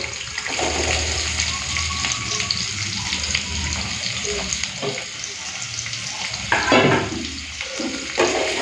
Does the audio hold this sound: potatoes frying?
yes